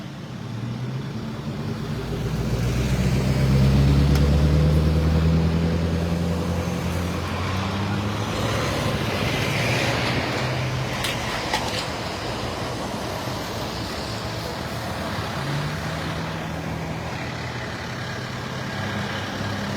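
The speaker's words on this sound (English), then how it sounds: "Now they're going to be moving the truck on up" Fire truck involved in a roadway accident rolls slowly up the road over debris, a steady low engine rumble swelling and then holding under broad traffic noise at moderate distance.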